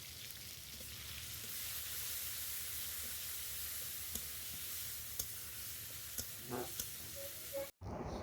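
Ground spice paste frying in oil in a wok, a steady broad sizzle and hiss with occasional faint clicks of stirring, close and continuous, ending in a brief cut.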